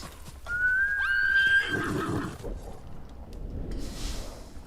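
A horse in the video game Ghost of Tsushima whinnies once, a high rising neigh that trails off into snorting, followed by quieter rustling background noise.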